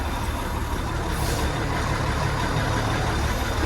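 A yard jockey tractor truck pulls forward in a truck yard, its engine a loud, steady, close rumble with broad road and exhaust noise throughout.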